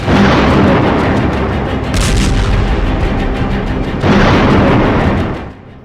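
A white phosphorus bomb blast in Gaza, heard as loud, continuous deep rumbling and roaring booms that swell twice before tailing off near the end.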